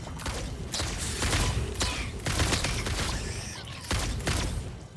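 Smart bullets fired from a rifle in Satisfactory, with several separate bursts of sharp gunfire spaced a second or so apart, loud and close with no talking.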